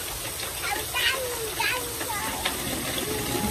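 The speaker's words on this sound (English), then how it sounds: "Oh, my God, it's storming." An outdoor rain storm pours steadily as a dense, constant hiss of falling water, with a person talking over it.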